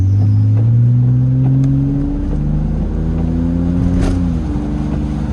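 A BMW in sport mode accelerates at night, its engine loud and close, rising in pitch through gears with short drops at each shift before climbing again.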